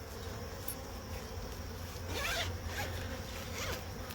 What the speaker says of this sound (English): I'm just zipping up my jacket right now.